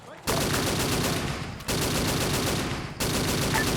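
Machine gun fire in a Tactical Squad Battle video game: sustained rapid automatic bursts, loud and close, in three long runs separated by brief cuts, with no talking.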